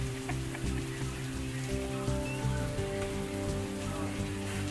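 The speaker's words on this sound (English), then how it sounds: "pour they did, every chance they got, and my God, we were loving it." Heavy rain pours steadily onto a surface in the Australian outback, a dense continuous patter with a low hum of music or machinery underneath.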